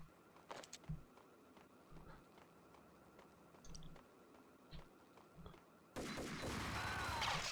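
Gunfire in the Max Payne video game: several brief sharp shots scattered over a quiet game backdrop, followed by a louder, denser burst of noise near the end.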